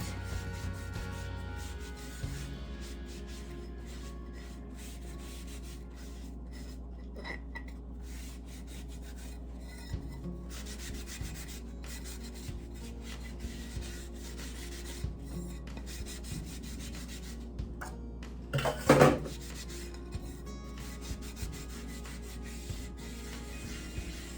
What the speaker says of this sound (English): so I'm just still wiping. So it's gonna be dry here a little bit. Then I will just wipe the lid.